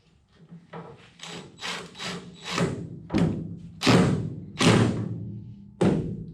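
The tailgate of a 1972 Chevy C10, freshly coated with spray-on bedliner and fitted with Chevrolet letters, is worked and slammed, giving a string of about seven heavy metallic thuds and bangs at irregular intervals, loud and close, with no talk.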